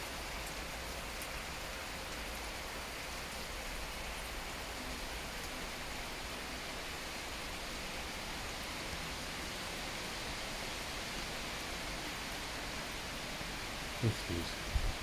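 Heavy rain pours down just outside Lille, near a motorway, as an even, hissing wash that stays constant for the whole stretch, with a couple of faint knocks near the end.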